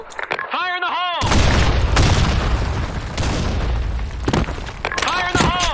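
Explosives detonate in a shooter video game, heavy booming blasts and crackling debris filling most of the moment, loud and close, with brief game chimes at the start and end.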